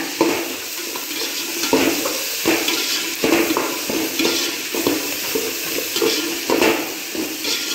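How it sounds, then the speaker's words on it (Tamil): Tomatoes being sautéed and stirred in a pan for a gravy, with a steady close sizzle and repeated scraping strokes of a utensil against the pan. "இதையும் நல்லா சேர்த்து வதக்கிக்கிங்க"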